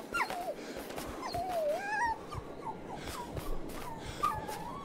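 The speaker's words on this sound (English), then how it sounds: "I'm saving the doggy. He's stuck in a trap." A dog stuck in a trap whimpers and yips in the horror game Maid of Sker, high thin whines rising and falling in several short cries over a quiet, hissy background.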